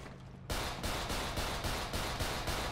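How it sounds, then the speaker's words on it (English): Rapid bursts of video game gunfire erupt after a brief quiet opening, sustained loud automatic shooting with rhythmic pulses roughly every half second, close and dense throughout. "Keep shooting. Just don't stop shooting."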